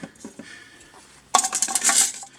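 Inner cooking pot of a COSORI 5.7L pressure cooker being handled, with a few soft knocks early on, then a loud burst of metallic clattering and scraping close by.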